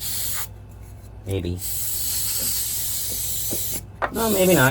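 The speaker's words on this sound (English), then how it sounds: "Let's spray some of this gunk out of here." Spray bursts hiss onto a Craftsman lawnmower to clear out gunk, a few short sprays separated by gaps, close and fairly loud, with someone speaking briefly in between.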